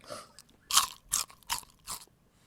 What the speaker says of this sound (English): I'm trying not to crunch near the mic.